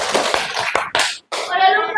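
A classroom of pupils claps hands together in loose bursts on a teacher's cue, the claps ragged and slightly scattered, with a brief pause before another burst of clapping.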